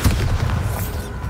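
A single deep, booming blast with a heavy low rumble that decays over about a second, a magical explosion spell effect from a game.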